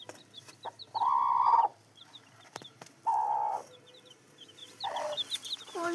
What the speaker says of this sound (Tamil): கோழி வளர்த்து போட்டுறேன்.